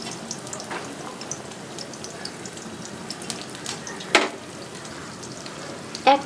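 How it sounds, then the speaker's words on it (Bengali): Chicken pakoras frying gently in oil over low heat, giving a faint, even bubbling hiss with a couple of brief louder clinks or splashes, close by and without speech. "পকোড়াগুলো হালকা আঁচে ভাজতে হবে"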